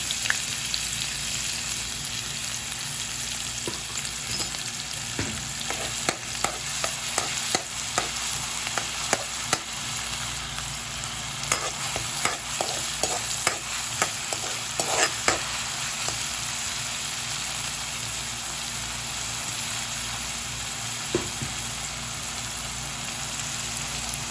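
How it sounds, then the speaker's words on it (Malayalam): Garlic, ginger and green chili sizzle steadily in hot oil for a sausage roast, with scattered clicks of a utensil stirring the pan throughout; no one speaks. "എണ്ണ ചൂടായിട്ടുണ്ട്. എടുത്ത് വെച്ച് വെളുത്തുള്ളി ഇട്ട് കൊടുക്കാം. എന്നിട്ട് ഇഞ്ചി ഇട്ട് കൊടുക്കാം. പച്ചമുളക്."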